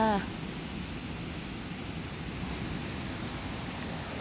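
A forest waterfall rushes steadily, a broad, even wash of falling water heard up close on a mushroom-hunting walk, with a brief voice at the very start.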